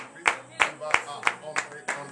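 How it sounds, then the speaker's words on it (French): Slow, rhythmic claps from a church congregation at a morning prayer service, about seven evenly spaced hits, fairly close and distinct, with a voice and faint background sound between them. "Donc je vous demande d'applaudir très fort."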